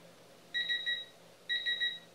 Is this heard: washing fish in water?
no